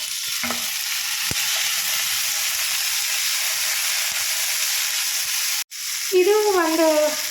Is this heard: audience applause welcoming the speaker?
no